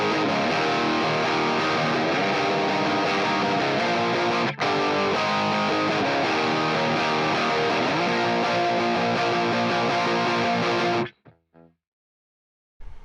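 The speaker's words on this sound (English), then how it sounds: "So I'll play through the chorus with the key change." A distorted electric guitar plays the chorus of a song through its key change. The dense, driving chords and lead lines continue without a break for about eleven seconds, then cut off abruptly into near silence.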